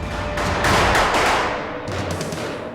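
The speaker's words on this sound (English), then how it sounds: "The gunfire from the HRT operators was explosive and deadly accurate." Rapid bursts of FBI Hostage Rescue Team gunfire during a hostage rescue, loud and close, with a heavy volley in the middle followed by another quick burst.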